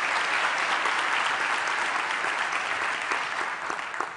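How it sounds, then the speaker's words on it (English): Large crowd applauding at a university graduation ceremony for the Faculty of Law, loud sustained clapping that holds evenly throughout with no voices over it. "Can you give them a round of applause?"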